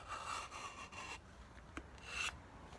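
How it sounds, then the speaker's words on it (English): A Latigo strap-cutting tool with a razor-blade edge is drawn through leather to slice a 3/4 inch strip for an axe sheath, giving a few quiet, brief scraping drags close by. "we're going to go ahead and use this Latigo tool"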